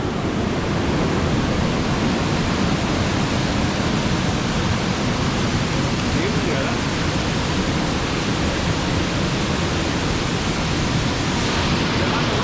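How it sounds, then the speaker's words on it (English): Steady broadband rush of High Shoals Falls, a forest waterfall, pouring continuously and loud at close range for the whole stretch with no voices over it. "I am in the middle of the forest, sleeping beside the waterfalls"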